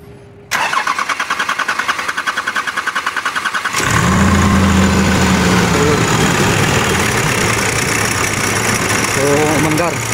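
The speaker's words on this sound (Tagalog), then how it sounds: "So, umandar. Tumining yung andar mga sir." A 2019 Nissan Navara pickup cranks with a rapid rhythmic starter whir for about three seconds, then catches and settles into a loud, steady idle close by, with a faint voice in the background.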